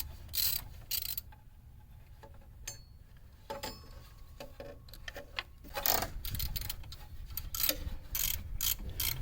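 A hand ratchet loosens bolts on a Chevrolet Trailblazer 4.2L VVT solenoid, with bursts of quick clicking pawl strokes separated by quieter metallic handling, close and fairly soft.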